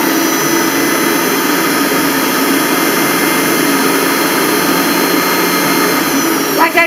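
Bullet Express machine juicing lemon and orange fruit runs with a loud, steady high-pitched whir and motor drone, continuous throughout with a faint rhythmic pulse underneath.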